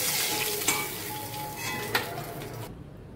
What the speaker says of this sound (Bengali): মাছগুলো সব ভাজা হয়ে গেছে, আমি এবারে তুলে নেব।